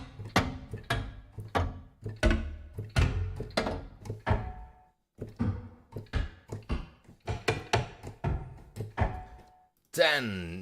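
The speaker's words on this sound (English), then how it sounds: "Booming wooden machine." Booming wooden machine sound effect from the Heavyocity Damage Machina library: a run of heavy, resonant wooden thunks and knocks in an uneven mechanical rhythm, ending with a brief swirling tail.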